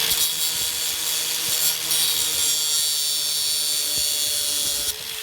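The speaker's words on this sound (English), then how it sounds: "What I'm going to do is just cut them off with the grinder here." A grinder cuts off exposed screws on metal siding for an underground trampoline install, a continuous harsh, loud grinding hiss that runs steadily for several seconds, close by, alone.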